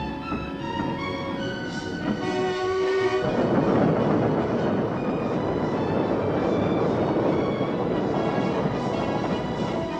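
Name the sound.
old railway carriages in a wiring train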